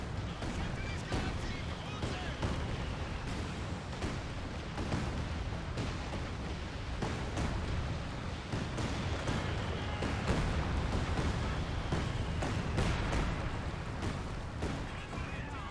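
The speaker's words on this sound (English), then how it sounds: "Here comes a land mattress barrage." Land Mattress rocket artillery barrage in the video game Company of Heroes 2, a dense rumbling roll of launches and explosions running continuously beneath battle noise, with a commentator talking over it.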